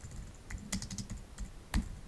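Keys tapping on a computer keyboard while text is entered in an image editor, a short run of light, irregular clicks with one sharper keystroke near the end, close and fairly quiet, no voice.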